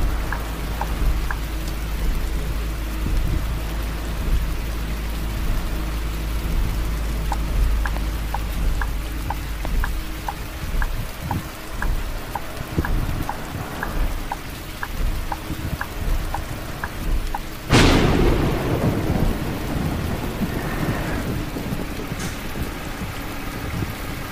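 Rain and thunder in the Universal Truck Simulator video game: a steady, heavy rain hiss continues throughout, and one sharp, loud thunder crack breaks in late and rumbles away under the downpour, with no voices.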